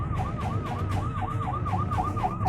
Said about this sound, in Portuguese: A ambulância tá passando.